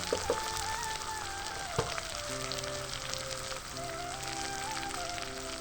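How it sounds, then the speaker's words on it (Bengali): Ground spices with green chilli and ginger paste frying steadily in a pan, a continuous close sizzle with soft scraping, with background music tones underneath. "মশলা কষিয়ে নিলাম ভালো করে।"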